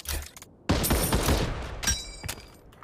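Video game gunfire from a Thompson submachine gun: a dense, loud burst of rapid shots, then a second shorter burst after a brief gap, with crackling debris and no talk.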